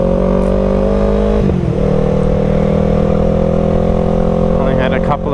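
Yamaha R3 motorcycle with a loud aftermarket exhaust, engine droning steadily and loudly at speed with a brief dip and shift midway, heard close from the rider's position.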